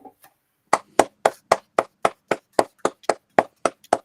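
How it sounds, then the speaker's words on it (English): Roughly a dozen crisp, evenly spaced handclaps ring out close up in a quiet room, a short five-second round of applause for Chan on a talk show. "5-second applause for Chan, mate"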